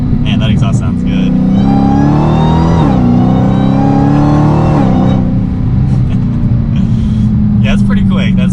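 Inside a Dodge Challenger SRT Hellcat, the engine roars loud and close as the car accelerates, its exhaust tone climbing through a gear before settling, with someone speaking over the steady rumble.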